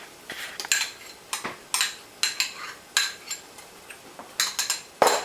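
Metal utensil clinks and scrapes against a pan as tomato paste goes into sauteing Louisiana Trinity, a string of sharp close taps in an uneven rhythm, no talking.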